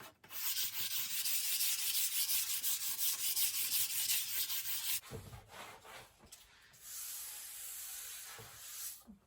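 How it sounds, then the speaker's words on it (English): Wood being lightly hand-sanded between finish coats on a tiny cabin project, a loud close steady rubbing hiss for about five seconds, then shorter softer strokes with small knocks. "So I'm going to do a little light sand because I feel a few little rough spots"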